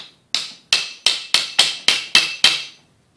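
A hammer gives eight sharp, evenly spaced taps beneath a bearing on the front axle of a Kubota BX25 tractor during a seal job, each strike ringing briefly and close by with no talk.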